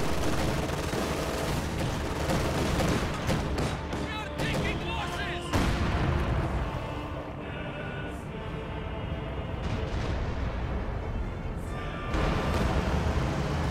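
Bombing strike in a World War II-style video game: heavy rumbling blasts and rattling gunfire fill the scene, loud at first, easing midway, then surging again, with a commentator talking throughout.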